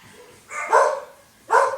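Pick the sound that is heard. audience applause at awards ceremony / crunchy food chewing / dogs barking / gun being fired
dogs barking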